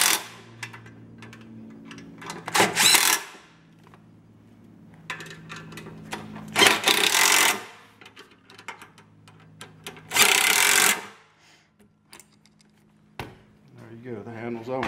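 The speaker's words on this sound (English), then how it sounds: "Now I'm going to cheat a little bit. Use my impact." An impact driver tightening bolts on a hand truck during assembly, firing in three loud hammering bursts of a second or so each, separated by quieter handling noises, with a person talking in between.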